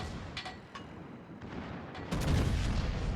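Secondary guns aboard a warship in World of Warships fire in repeated sharp reports, a few isolated cracks giving way to a louder, denser burst of gunfire near the end, with no talking.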